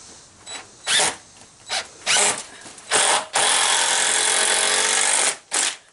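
A power drill drives non-self-tapping screws through steel sandwiched against a board on a ladder-supporting arbor, in several short loud bursts and then one long sustained run, close up.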